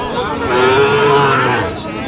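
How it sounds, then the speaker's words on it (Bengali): A Sahiwal breed cow at a rural cattle market gives one loud, close moo, a single drawn-out call that swells and fades over about two seconds. "এইদিকে দেখতেছি একটা বেশ সুন্দর কোয়ালিটির শাহিওয়াল জাতের গরু"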